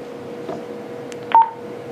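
A single short electronic keypad beep sounds from a Motorola XTL5000 radio control head, crisp and close against quiet background hiss.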